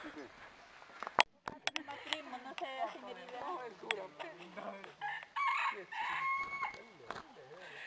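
A rooster crows outdoors at a rural home in Chanchamayo, its drawn-out wavering call rising over nearby clucking and several people talking close by.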